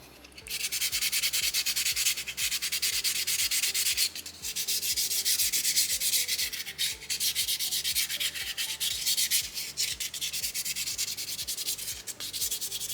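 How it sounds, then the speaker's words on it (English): Sandpaper rubs over a small soapstone owl carving in close, continuous rhythmic strokes, a loud gritty scratching that pauses briefly a couple of times. "I just kind of finalized it up with sandpaper number 2 as I got rid of those scratches and the textures that I didn't want."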